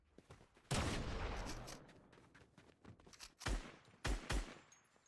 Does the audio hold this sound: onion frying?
no